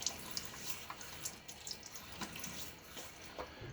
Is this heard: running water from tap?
yes